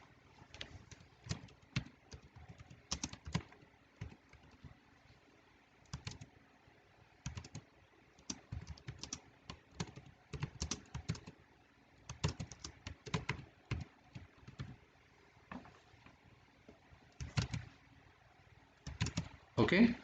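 A computer keyboard is typed on in bursts of rapid, close clicking separated by pauses, while entering spreadsheet text for an exam exercise.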